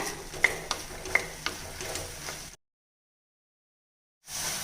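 Mushroom curry being stirred in a pan, a few sharp scraping taps and a soft sizzle over about two and a half seconds, then a stretch of silence before the frying noise returns.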